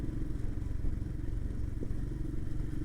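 A Royal Enfield Himalayan 452 motorcycle engine rumbles steadily during a test ride, low and continuous with some clatter and wind, with no talk.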